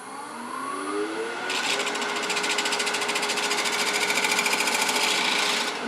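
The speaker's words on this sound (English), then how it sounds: "I'm going to switch to a little smaller gouge, and I'm going to just continue that curve into this shoulder." Wood lathe turning a spatula pot while a smaller gouge shapes a curve into the shoulder: a steady motor hum, then a loud continuous rapid chatter of the tool cutting the spinning wood, with no talk.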